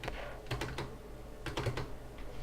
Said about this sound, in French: je suis encore désolée pour les bruits de mon clavier